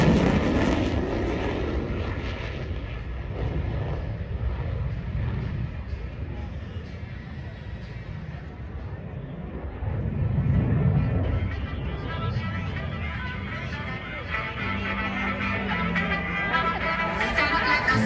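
An F-35C Lightning II fighter jet makes a low, slow pass at an air show, a continuous loud roar that rises and falls over about eighteen seconds, with voices heard under it.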